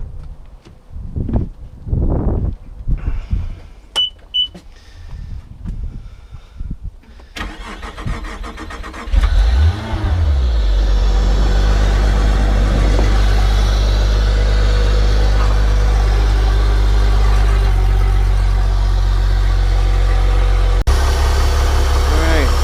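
A Honda 200hp outboard boat engine cranks and fires up, then settles into a steady, loud idle with a low rumbling drone; clicks, handling noises and a few voices come first, before the start.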